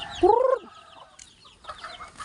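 Chickens being fed cluck loudly and close by in a short burst, followed by softer scattered clucks and rustling.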